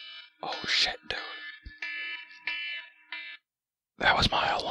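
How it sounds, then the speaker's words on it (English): A repeating electronic alarm sounds in several harmonic buzzer-like beeps, loud and close, alternating with brief gaps before a final burst. "That was my alarm."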